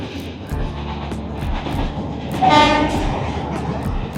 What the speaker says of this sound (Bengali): নদীর উপরের ওই ব্রিজ দিয়ে ট্রেন যাওয়ার দৃশ্যটা সবার নজর কেড়েছিল।